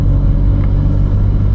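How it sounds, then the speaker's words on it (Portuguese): A VW Up TSI Stage 2 with a dual, Golf GTI style exhaust idles or cruises with a deep, steady, loud engine roar and heavy low rumble. "a configuração de abafador também achei bem da hora pelo ronco que produz"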